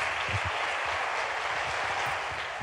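An audience at the Jashn-e-Rekhta 2022 festival claps after a conversation session with Shailesh Lodha. The applause is steady, dense and sustained throughout, with no voices over it.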